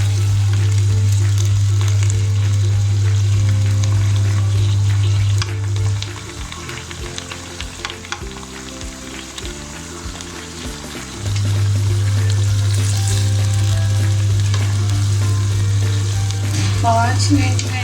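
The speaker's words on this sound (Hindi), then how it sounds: "अब मैं इसमें ये प्याज का पेस्ट है डालती हूँ।" Onion paste for a shahi chicken handi frying in a pan: continuous loud sizzling with stirring scrapes throughout, and a steady low hum that drops away briefly midway and then returns.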